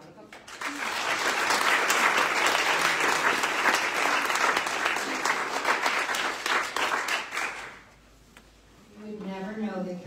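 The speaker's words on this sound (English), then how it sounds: "Let's welcome Kathleen to the podium with a round of applause" An audience at an ovarian cancer research annual meeting applauds as a woman is welcomed to the podium, a loud, sustained round of clapping for about eight seconds that fades, followed by a voice speaking.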